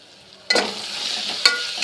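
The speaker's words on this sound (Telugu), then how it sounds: "ఉల్లిపాయలు కొంచెం ఎర్రగా వచ్చేలాగే వేగాలి, మగ్గాలి బాగా." Onions sizzling in a pan as they are stirred, a sudden burst of frying hiss after a short quiet start, holding steady with a second brief crackle spike.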